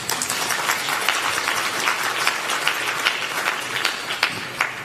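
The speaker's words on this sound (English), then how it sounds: "And I'm expecting a hand clap." An audience at an annual members meeting claps steadily, a dense even patter of many hands that holds throughout without voices.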